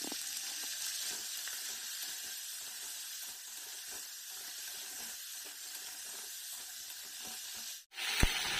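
Mixed vegetables including potato and eggplant fry with cumin, salt and turmeric, producing a continuous close sizzle and hiss with faint stirring taps, ending in a sharp knock.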